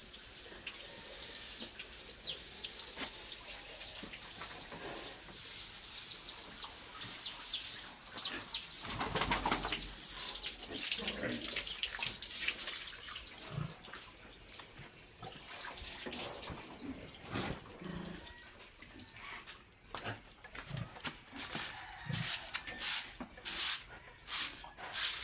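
Water spraying over a pet pig during a bath, a steady hiss of running water that later breaks into choppy splashes and bursts, fairly quiet, with no talk.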